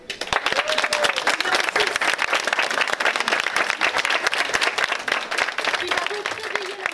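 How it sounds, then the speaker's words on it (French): Loud, dense applause and clapping from a crowd at a Miss Mermaid France 2018 pageant as a finalist is called up, continuous throughout with a few faint voices mixed in. "sous vos applaudissements, nous allons appeler la candidate"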